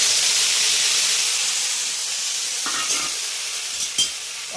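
Ginger, garlic and onion paste frying in a pan for a Bengali mushroom curry gives a steady, close sizzle and hiss, with a few soft stirring scrapes toward the end.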